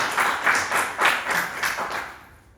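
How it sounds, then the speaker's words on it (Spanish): Applause from an audience at a poetry event in a club hall, a few rhythmic swells of clapping that fade out toward the end, moderately distant. "Fuerte el aplauso"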